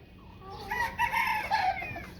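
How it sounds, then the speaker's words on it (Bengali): Pet chickens and a rooster cluck and crow close by in a steady stretch of fowl calls, with no talk over them. "এত শখের মুরগিগুলো জবাই করে দিতে হবে"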